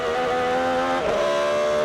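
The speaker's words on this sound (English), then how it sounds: "So the 7 car, the Ferrari," A Ferrari and a Porsche sports car race in an endurance event, a loud sustained engine howl with a pitch shift midway as one car passes close by.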